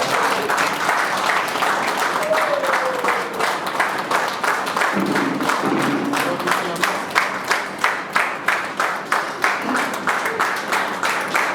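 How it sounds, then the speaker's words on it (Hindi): An indoor audience at an award ceremony applauds continuously, a dense wash of clapping that settles into strong rhythmic unison claps toward the end, loud and close, with a voice briefly audible mid-way. "आप लोग तालियां बजाते रहिए"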